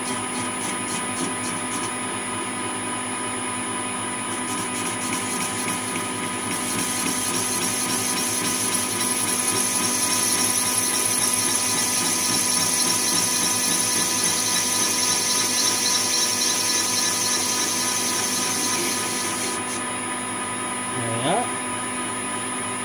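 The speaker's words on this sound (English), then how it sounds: "We'll touch off and we'll take a facing cut of the tube." A lathe takes a facing cut on a metal tube in a home workshop, making a steady, loud machine whine with sustained tonal cutting squeal over the motor hum, and a short rising squeak near the end.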